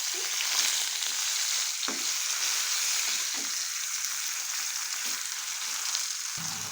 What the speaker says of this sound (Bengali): এই তেলের মধ্যে আমি এরকম টমেটোগুলোকে স্লাইস করে কেটে নিয়েছিলাম এগুলো দিয়ে দিচ্ছি